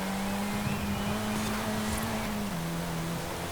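A Saleen S1 with a 2.6 litre turbocharged inline-4 in Forza Horizon 5, a steady sustained engine drone holding one pitch before dropping slightly, loud and continuous.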